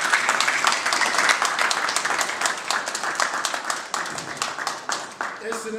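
Applause from a crowd at a Paris UDPS party anniversary gathering honouring the late president Etienne Tshisekedi: dense, steady clapping that fills the whole stretch at close range, with crowd noise mixed in and easing slightly toward the end.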